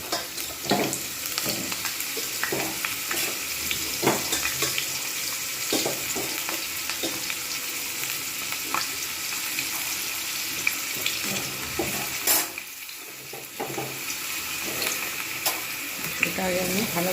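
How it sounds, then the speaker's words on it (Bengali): Potatoes frying in hot oil for Dhaba-style dum aloo, a steady close sizzle with wet crackle and occasional stirring scrapes running throughout, no talking. "প্রথম আমি আলুগুলোকে ভেজে নেব।"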